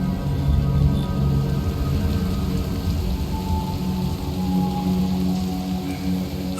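In Diablo Immortal, a storm brings steady heavy rain and a low, rolling rumble of thunder, continuous and fairly loud, with no voices.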